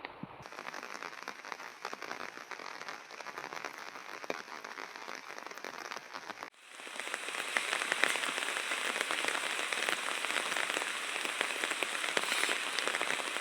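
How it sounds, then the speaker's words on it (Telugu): Steady heavy rain pours throughout, a dense hiss that grows louder and fuller about halfway through, with no voices. "వర్షం అయితే ఫుల్ ఓడుతుంది ఇప్పుడు"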